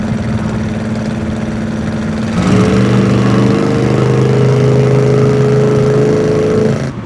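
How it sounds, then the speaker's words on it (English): A 1967 Plymouth Fury's exhaust rumbles steadily at idle, then the engine note rises and holds a smooth, deeper drone, loud and close. "Exhaust has a good note to it where it's not too loud, but you can hear it when you get on the throttle"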